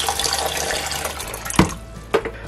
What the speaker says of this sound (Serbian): Nalijte mlaku vodu.